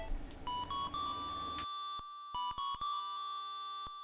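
A video game character's voice made of electronic beeps: short, bright tonal bleeps in quick irregular bursts, clear and alone, like chirpy synthetic chatter.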